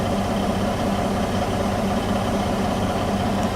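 A steady low engine idle from a Volvo 780 sleeper truck rumbles continuously, even and unchanging, with no voices over it.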